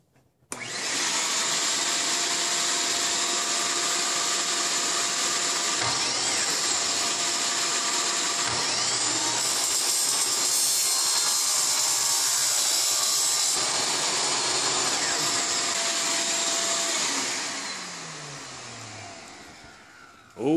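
A shop vacuum runs steadily in a metalworking shop, with a loud, continuous broadband roar that holds for about seventeen seconds before winding down near the end.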